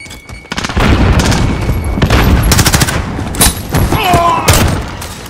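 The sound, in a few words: grenade explosion and gunfire in video game Call of Duty Modern Warfare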